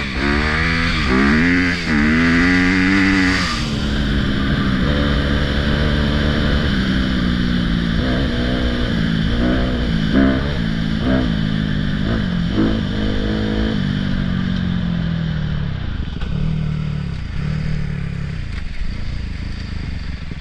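A Honda CRF250R dirt bike's engine revs and throttles up and down on abandoned train tracks, a close, continuous buzzing drone with shifting pitch as the rider opens and closes the throttle.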